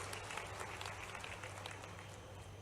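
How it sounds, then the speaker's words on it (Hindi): A crowd at a rally in Majhauli, Sidhi, for a tribal conference held by the chief minister of Madhya Pradesh, claps together in continuous, faint applause with a low hum beneath it. "दोनों के लिए जोरदार ताली बजाओ"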